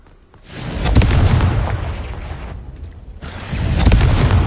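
An explosive Confringo spell in a Harry Potter video game sets off deep booming blasts, a long rumbling roar that fades briefly and then swells again, loud and close.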